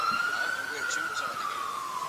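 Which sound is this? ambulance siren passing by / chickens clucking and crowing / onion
ambulance siren passing by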